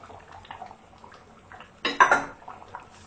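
Vegetables and pumpkin tipped into a cooking pot: a quiet background, then a short loud clatter and splash of pieces landing in the pot, followed by faint knocking.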